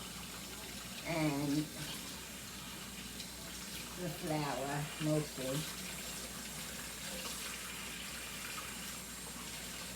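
A home kitchen faucet runs steadily as someone rinses chicken and flour off their hands, a constant close water hiss beneath a woman's brief speech.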